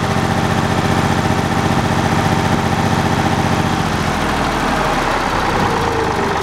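A Ford 335 industrial tractor's diesel engine idles low and loud up close, a steady rhythmic chug with a slight knock that settles into a rougher, lower rumble toward the end.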